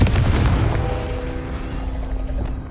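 Confringo fire spell blast in Hogwarts Legacy, a single heavy booming explosion at the start that rumbles and slowly decays over a few seconds.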